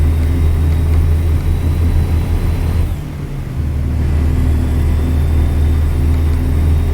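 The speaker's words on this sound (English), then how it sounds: "the growl of the engine" A steady, loud low truck engine drone in American Truck Simulator rumbles continuously, dipping briefly midway before settling back into its even growl.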